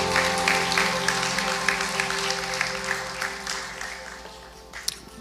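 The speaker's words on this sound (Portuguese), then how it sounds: "Você pode aplaudir ao Senhor mais uma vez?" A church congregation claps for the Lord during a service, a steady wash of applause over a sustained musical drone with tonal hum, gradually easing in intensity.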